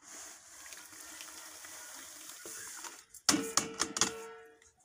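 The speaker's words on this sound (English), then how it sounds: "I'll pour my chlorine inside and stir." Chlorine poured into a mixing bucket while making bleach: a steady, close pouring wash runs for about three seconds, then a few sharp clinks and knocks as the mixture is stirred.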